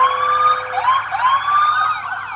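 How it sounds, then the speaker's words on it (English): An ambulance siren wails continuously and close by at a street parade for the Hicksville Sesquicentennial, its rising and falling sweeps repeating loudly over a low engine rumble. "the second ambulance unit coming around the corner, and they're shutting the street back down."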